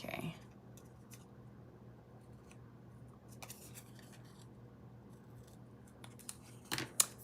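Scissors snip through paper during a craft stamping session, with faint scattered cuts and then a cluster of close, crisp snips near the end over a quiet room hum.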